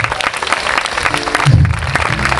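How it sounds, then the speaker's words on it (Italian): Applause from an outdoor concert audience at Parco Sirolo 2012 as the band is introduced, a dense, steady wash of clapping that swells briefly midway, with a few tonal notes underneath. "Un applauso? Ci sta?"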